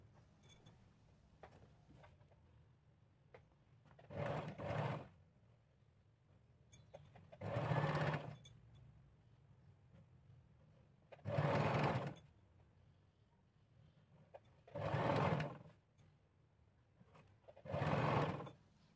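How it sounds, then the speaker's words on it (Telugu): A sewing machine stitching down a folded sleeve hem on an elbow-length dress sleeve runs in five short bursts of roughly a second each, separated by quiet pauses, close and steady. "అలాగా ఫోల్డ్ చేసి నేను ఇక్కడ కుడుతున్నాను"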